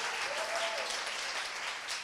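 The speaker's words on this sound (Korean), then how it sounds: "우리 박수 한번 쳐주시기 바랍니다." Congregation in a church breaks into dense, steady applause, loud and continuous throughout, with a faint voice briefly audible beneath the clapping.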